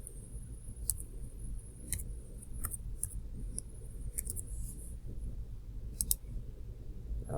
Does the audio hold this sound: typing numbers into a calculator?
yes